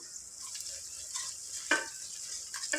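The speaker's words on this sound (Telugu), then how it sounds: "అల్లం వెల్లుల్లి పేస్ట్ ఫ్రై అయింది" Ginger garlic paste fries in a pan for a mutton curry, a gentle steady sizzle with occasional stirring scrapes and light clinks, fairly quiet and without talk.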